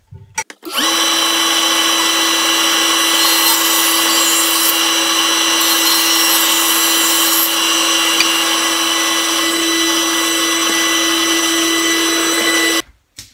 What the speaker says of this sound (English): All right, dust collection's hooked up. Let's turn it on. Throw something through there.